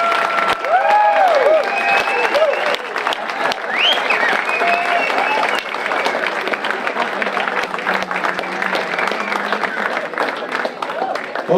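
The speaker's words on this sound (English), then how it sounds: "please, everybody, give him a round of applause" A dinner crowd at a Hearts and Shamrocks event breaks into sustained, loud applause for a newly named Grand Marshal, with scattered whoops and cheers mixed into the clapping throughout.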